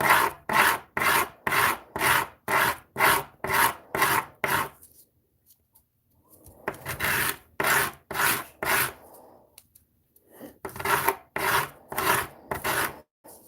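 Hand sanding with 80 grit sandpaper gives a harsh, rhythmic rasp: about a dozen quick strokes, a pause with a softer longer rub, then another run of fast strokes, all close and loud with no talking.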